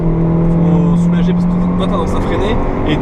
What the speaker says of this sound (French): je freine, je rentre dedans et j'accélère dans le virage